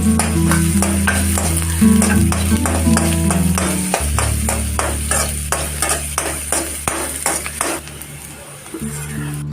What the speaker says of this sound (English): And add chopped onions. Fry till translucent in color.